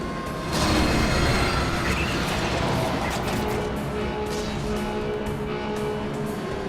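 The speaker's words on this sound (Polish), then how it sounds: "Nadjeżdża pociąg z drogi!" A train rolls in within the Transformers: War for Cybertron video game, a loud rumbling rush with metallic wheel noise that swells early and holds steady for several seconds, mixed with game sound.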